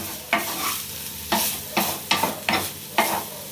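Chhena from split milk being stirred and roasted in a pan on a low flame, with five or six distinct scraping strokes of a spoon over a steady soft sizzle.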